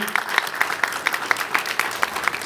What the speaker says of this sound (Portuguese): Dê um aplauso ao Senhor. Se é para ele, toca mais forte, por favor.